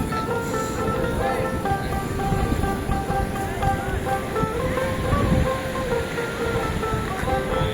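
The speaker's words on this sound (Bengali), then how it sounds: "এই হলো চট্টগ্রামের বিচ।" Sea waves wash onto a beach at Chittagong in a continuous rushing surf, with wind buffeting the microphone and a steady tone and distant crowd murmur layered over it.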